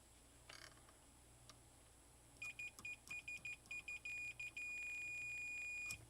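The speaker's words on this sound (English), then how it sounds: "we'll check continuity. Make sure it beeps for us" A continuity tester checking contacts on a third-party NES/SNES controller gives a run of short, high electronic beeps that stutter on and off, then settle into one sustained tone before cutting out, fairly faint, no talking.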